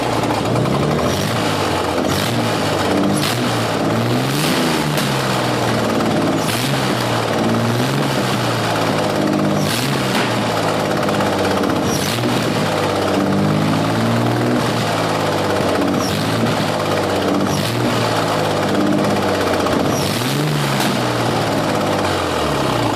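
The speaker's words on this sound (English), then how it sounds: "I think my exhaust is too loud to hear anything" A turbocharged 3.8 V6 in a 1995 SN95 Mustang runs with a loud, steady exhaust drone and engine rumble that fills the whole stretch, with faint rhythmic pulsing and no voices.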